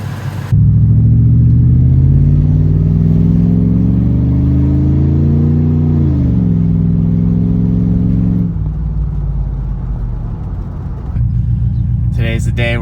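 A truck engine starts and revs up, its deep rumbling pitch climbing and holding loud and close for several seconds, then dropping back to a lower idle, with a voice coming in at the very end.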